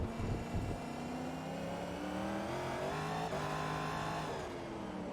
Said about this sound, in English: See, even in 4th gear accelerating, the car still wants to break loose.